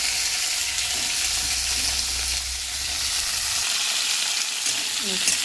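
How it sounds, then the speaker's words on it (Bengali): Drumsticks, bitter gourd and potato hit hot oil in a pan, giving a loud, continuous sizzle and hiss close up, with a low background hum fading partway through. "আর তেলের মধ্যে আমি সজনা ডাঁটা উচ্ছে আর আলুটা দিয়ে দিই"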